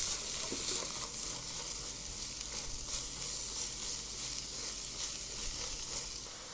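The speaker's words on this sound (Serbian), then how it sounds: "Luk pržim dok ne omekša." Onion fries in hot oil in a pan with a continuous, dense sizzle that stays loud and even throughout, with a few faint stirring knocks. No one speaks.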